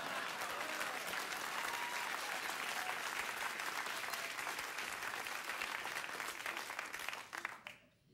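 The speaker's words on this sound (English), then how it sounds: "So a round of applause, man." A late-night talk show studio audience breaks into loud, sustained applause, a dense wash of clapping that holds steady for several seconds before tapering off abruptly at the end.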